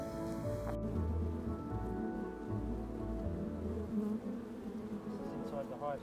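A honeybee laden with pollen returning to its hive in Mauritius, a continuous near buzzing drone over a busy hum of many insects, steady and moderately loud, with no talk.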